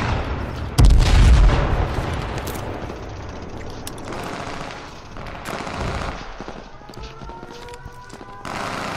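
Gunfire and a blast in the survival shooter H1Z1: a heavy close explosion boom near the start, then rattling bursts of weapon fire and further booms fading into scattered shots.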